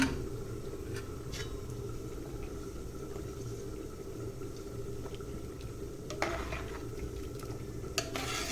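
A spoon stirs chicken curry with ground coconut and fennel steadily in a pot over a low continuous hum, with a few faint scrapes and clinks against the side.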